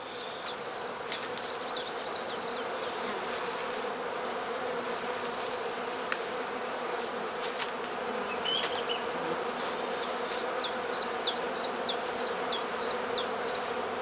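A dense swarm of honey bees at a heather skep, subdued by smouldering tansy smoke, hums continuously at close range, with a few sharp chirping notes repeating over the steady drone.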